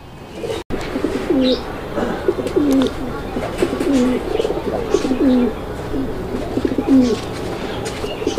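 A male fancy pigeon coos close by in a run of about six rolling, repeated calls at a steady rhythm, loud and clear against faint background noise.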